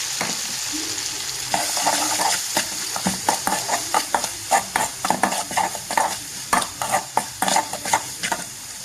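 Tomatoes fry in a hot pan for a Tamil side dish, a steady sizzle under repeated scraping strokes of a spoon or spatula against the metal pan, the stirring growing more rhythmic over time.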